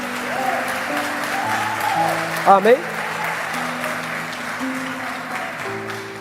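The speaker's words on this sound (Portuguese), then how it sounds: "Você pode aplaudir a Ele nessa noite por isso?" Church congregation applauding during an evening service, a steady broad wash of clapping under sustained keyboard music, with a preacher's voice speaking briefly.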